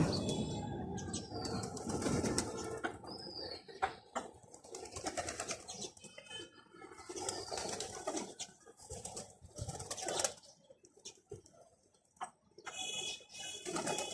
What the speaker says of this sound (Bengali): এই যে কবুতর উড়ে ওখানে যাইতেছে পানি খাওয়ার জন্য